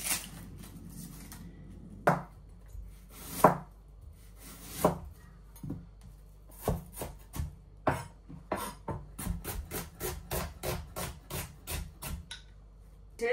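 Knife chopping ingredients for chicken biryani, a run of sharp, irregular taps on a cutting board. The strikes come in bursts and then a steady quicker sequence, close and moderately loud, with no talking.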